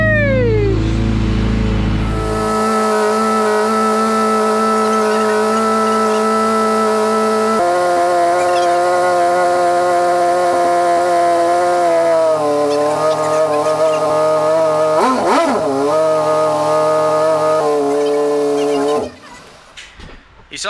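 Ford EF hatch engine after a timing gear repair, revving steadily and loudly at close range: a sustained buzzing tone that climbs in stepped rises, wavers briefly near the end, then cuts off abruptly.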